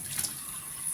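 Cold water runs steadily from a tap into a sink for a brief moment, a soft continuous splash with no voices over it.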